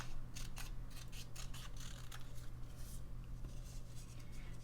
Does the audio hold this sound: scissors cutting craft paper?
yes